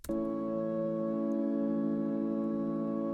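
A sustained, droning synth pad starts abruptly and holds steady, a bright airy ambient tone hanging evenly for a few seconds.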